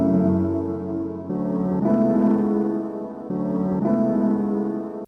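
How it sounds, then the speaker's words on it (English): Warm, muffled music plays through the iZotope Vinyl plugin on its 1980 setting with 22% wear, a dull, dusty lo-fi character, chords changing every couple of seconds over a soft low end. "I used the free plugin Vinyl by Isotope. I put on the 1980 setting"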